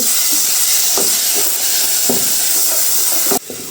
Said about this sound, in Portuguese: Vamos deixar esse alho dourar aqui um pouquinho.